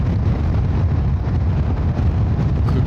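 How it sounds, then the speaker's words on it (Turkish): Strong wind buffets the microphone while riding a Honda NC750X motorcycle on the road, a steady loud rumbling roar that fills the whole moment with no talk. "Çok rüzgar var."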